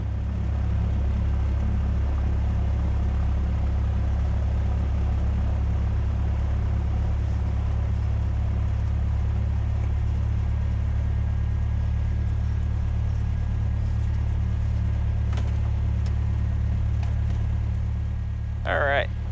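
Small single-engine Cessna Skyhawk piston airplane heard from inside the cockpit as it begins a takeoff roll, a steady loud droning hum throughout, with a brief whistling tone near the end.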